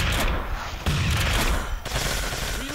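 Rapid gunfire from players shooting in a zombie video game, dense overlapping bursts filling the short stretch with loud, continuous cracks.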